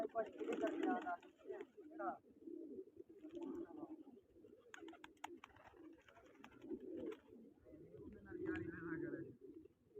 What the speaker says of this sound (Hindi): कबूतर संगत में उड़ रहे हैं